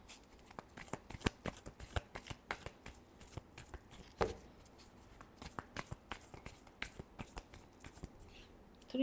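A tarot deck is shuffled by hand at close range in quick, uneven bursts of crisp card riffling and slapping. A soft voice is barely present.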